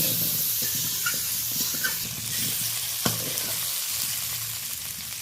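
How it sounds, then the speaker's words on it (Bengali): Potato pieces seasoned with salt and turmeric fry in a pan, a continuous close sizzle with occasional stirring clicks and scrapes, no voices. "আলুটা ভালোভাবে ভেজে নিলাম"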